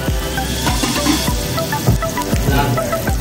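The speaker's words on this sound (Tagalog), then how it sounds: "Sunod ang sibuyas. Gisa-gisa lang." Onions sauté in a hot pan after garlic for a mussel tinola, giving a loud, continuous sizzle broken by several scraping strokes of a utensil stirring against the pan.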